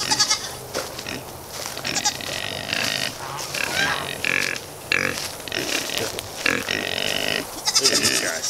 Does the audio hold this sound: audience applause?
no